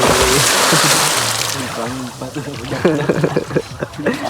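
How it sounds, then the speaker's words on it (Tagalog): Splashing and sloshing water from someone swimming in the clear, deep water of Macapio Cold River in Banga, Aklan, continuous and close, with talk over much of it. "Guys, ito ganito ako kabangis maglangoy."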